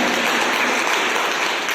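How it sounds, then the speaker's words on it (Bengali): A seminar audience at Purbasthali gives loud, sustained applause, a dense crackle of many hands clapping together throughout. "একটা জোরদার হাততালি আমি জানাচ্ছি"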